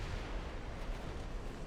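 Warship guns fire high-explosive shells at cruisers in the naval battle game Ultimate Admiral Dreadnoughts, a dense, rumbling roar of artillery blasts blending into a continuous booming wash, with no talking.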